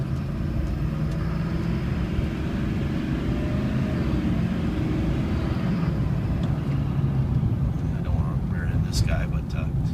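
A 2005 Chevy Silverado Duramax 4x4 pickup engine runs at a steady idle, a loud, constant low diesel rumble close by with no pauses.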